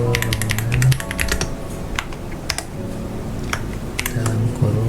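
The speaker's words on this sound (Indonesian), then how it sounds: "Nah, sini langsung ketikkan input" Rapid, uneven bursts of keystrokes rattle on a computer keyboard as text is entered into a flowchart in Draw.io, close and clear, with brief pauses between runs of typing and no speech.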